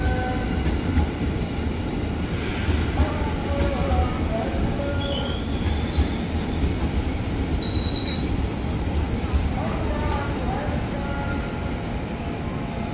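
A KRL Commuter Line JR 205 electric train at Manggarai station screeches as its wheels squeal on the rails, with a loud, continuous metallic rumble and shrill tones rising over the track noise while faint station announcements play.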